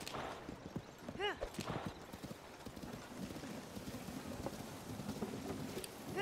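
Quick clip-clopping hoofbeats of a galloping horse in The Legend of Zelda: Tears of the Kingdom run throughout, fairly faint, over a rainy background with a brief whoosh early on.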